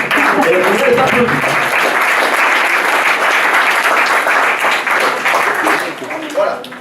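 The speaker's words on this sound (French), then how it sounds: "Et on les applaudit." A crowd at the Patro 2015 festival gives sustained, loud applause, with many hands clapping continuously before it thins slightly at the end.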